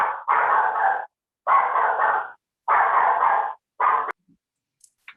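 A dog barks nearby in four loud, drawn-out bursts separated by short pauses, with a few faint clicks after the last one.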